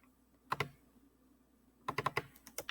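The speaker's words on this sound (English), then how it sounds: "I'm going to backspace to delete the word add, and I'm going to type welcome" Two short bursts of typing on a computer keyboard, a quick pair of taps followed later by a faster run of keystrokes, close and fairly quiet against a low room hum.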